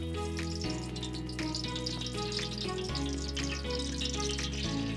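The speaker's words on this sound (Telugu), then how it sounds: "దీంట్లోనే మనం కుకింగ్ ఆయిల్ యాడ్ చేద్దాం" Cooking oil hisses and sizzles in a pan for Telugu chicken curry, a continuous fry under loud background music with shifting chords and no speech.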